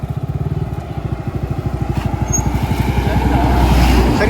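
A motorbike pulls up on a mountain road in the evening on a camping trip, its engine a steady pulsing putter that grows louder and fuller as it draws close.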